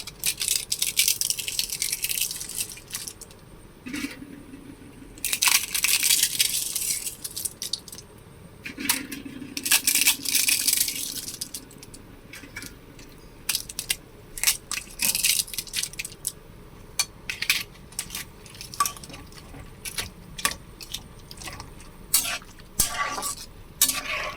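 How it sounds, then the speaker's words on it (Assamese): Dry papad broken up by hand into a pan of simmering potatoes gives close, crisp cracking and crunching in irregular bursts, with softer rattling and bubbling between them. "এতিয়া মই ইয়াত পাপৰবিলাক এনেদৰে ভাঙি দিছোঁ"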